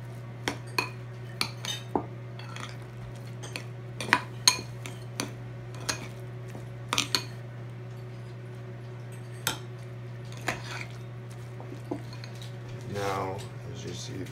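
Raw burrito filling being mixed in a bowl, with repeated light clinks and scrapes of a utensil against the dish at an uneven pace, close by, over a steady low hum.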